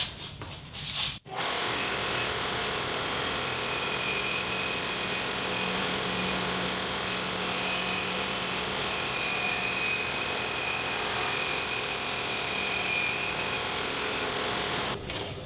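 A Hammer N4400 band saw slices a thin section off a wooden board, giving a steady, even whirring and rasping hum that runs almost unbroken for about fifteen seconds with no talking.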